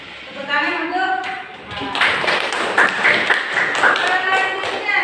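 Classroom of students clapping their hands together, a loud burst of scattered claps starting after a spoken voice and continuing steadily to the end, with talk mixed in.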